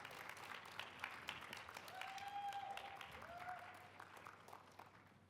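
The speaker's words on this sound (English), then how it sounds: "please give her a round of applause" Faint, distant applause rises at an awards ceremony as a recipient comes up to accept an award, a soft crowd wash with murmuring voices and a brief tonal squeal above it.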